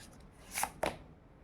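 Cards being drawn from a tarot deck, two quick papery swishes in close succession, close and soft in a quiet room.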